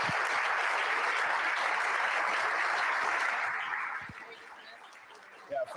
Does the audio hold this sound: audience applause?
yes